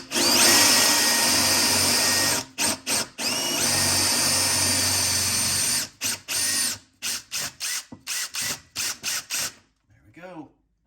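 A power drill bores holes while a range hood vent is installed, starting with two long, loud whirring runs and then breaking into many short trigger bursts close by, ending with a brief faint wobbling tone.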